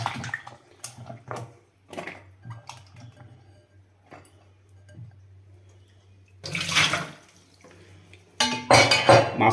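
Mushrooms being rinsed in water: sparse clinks and knocks of a bowl and handling at first, then bursts of running tap water and splashing, close and clear with no talk.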